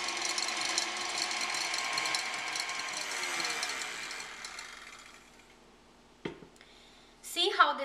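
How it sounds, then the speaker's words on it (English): Egg whites being whisked to soft peaks for a cake: a steady, close whirring that gradually fades out. A sharp knock follows, then a short burst of voice at the end. "You want to whisk the egg whites until they triple in volume and form soft peaks."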